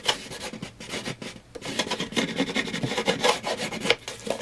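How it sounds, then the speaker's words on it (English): A bone folder rubs and creases a cardboard edge on a homemade oatmeal box, giving scratchy, rasping strokes in quick repeated passes, close and moderately loud. "Trusty bone folder."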